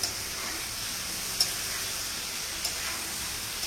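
Potatoes and pointed gourd fry together in an oiled pan as a steady, even sizzle at moderate volume, broken by a few faint ticks of the spatula, with no talking over it.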